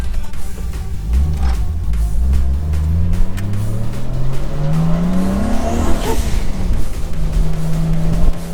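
A Nissan Skyline R33 with newly installed coilover suspension is driven on a test drive, its engine note climbing steadily through a long gear, briefly dipping at a shift, then settling, with loud road and tire noise throughout.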